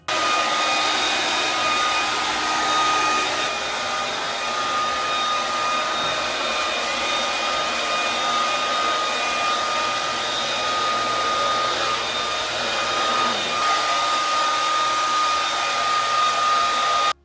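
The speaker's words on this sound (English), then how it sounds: "try your best to blow dry in a downward position" A hair blow dryer blows steadily on natural hair being straightened, producing a continuous close-up whoosh and whine for the whole stretch with only slight changes in strength.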